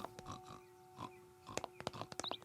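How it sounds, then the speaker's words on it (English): A few short, nasal snorts and grunts sound up close against a quiet room, ending in a quick run of sharper snuffling bursts. "Why you gotta be snorting like a pig?"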